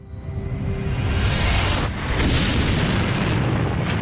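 A supernova explosion sound effect: a loud, deep, rumbling boom that swells and roars steadily for several seconds with a brief dip midway, heard alone with no voices.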